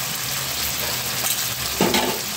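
Stuffed pointed gourd curry with ground garam masala paste fries in a pan, a loud steady sizzle broken by a couple of scraping stirs, one sharper near the end.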